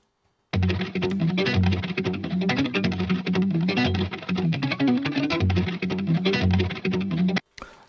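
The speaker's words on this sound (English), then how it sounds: "So this is the main riff." A thick, doubled electric guitar riff plays loud and steady, repeating a chugging pattern before stopping abruptly at the end.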